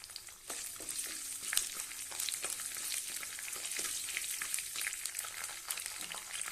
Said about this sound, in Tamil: பொன்னிறமாக வறுபட்டுருச்சு நான் இஞ்சியை சேர்க்குறேன் பூண்டு சேர்த்துக்கலாம் பச்சை மிளகாயை சேர்த்துக்கலாம்